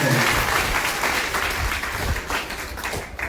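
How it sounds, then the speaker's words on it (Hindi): Schoolchildren at a government school's children's parliament give loud, sustained applause welcoming their newly chosen student prime minister, a thick, energetic roar of many hands that stays strong throughout and eases slightly near the end. "एक बार जोरदार ताली से स्वागत करें।"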